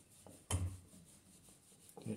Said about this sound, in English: I'll screw it in.